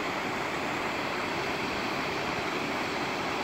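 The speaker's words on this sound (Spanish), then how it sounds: "la cascada" A waterfall in Český Krumlov gives off a steady, dense rush of falling water, loud and unbroken throughout, with no voices.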